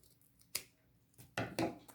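Scissors cutting off extra strap material on a fringed lace boho purse: three close, crisp snips, one early and two in quick succession near the end, against a quiet background.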